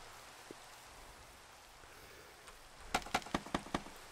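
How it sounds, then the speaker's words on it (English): Rain falling in Minecraft, a soft steady hiss, with a short run of six sharp, evenly spaced clicks or taps near the end. "it's raining and snowing and ugly out"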